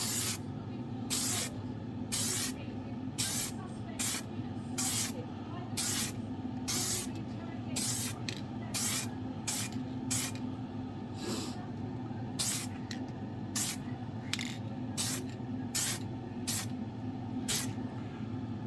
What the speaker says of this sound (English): Now when doing the candies, do not spray them too heavily, just light coats.